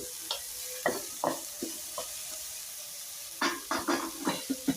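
Cowpea and green gram sprout sabzi being stirred in a pan: a soft continuous sizzle with scattered scrapes and clicks of the spoon, the strokes bunching into quick bursts near the end.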